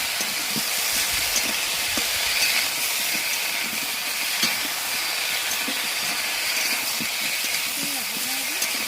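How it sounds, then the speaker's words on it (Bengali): Ginger paste and turmeric frying in a pan for a Bengali shukto, a steady, even hiss of cooking with faint clicks and a voice murmuring low underneath. "আদা বাটা দিয়ে ভাজা ভাজা হচ্ছে এটা"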